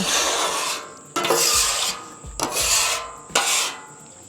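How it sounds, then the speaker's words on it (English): A metal scraper rasps baked-on gunk off a Blackstone griddle, four long, harsh strokes at close range, each ending with a clank, loud and alone with no voices. "Just look at all that nasty stuff. Another round of scraping."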